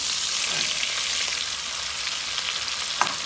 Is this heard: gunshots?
no